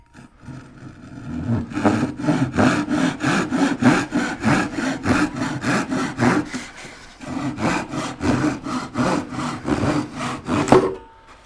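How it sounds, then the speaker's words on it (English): A small hand saw cuts through a wooden board in a steady run of close, rasping back-and-forth strokes with a brief pause midway, loud and alone without talk. "now I'm going to get the little saw out because it's a little cut"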